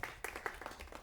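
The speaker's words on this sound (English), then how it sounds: "Clap hands for them." Audience clapping at a school quiz show contest between two primary schools, a brief burst of scattered hand claps at moderate level with a low hum underneath.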